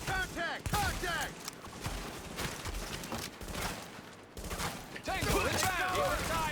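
Video-game gunfire rattles in dense bursts and fusillades from a tactical shooter, loud and nearly continuous, layered under excited shouted squad callouts.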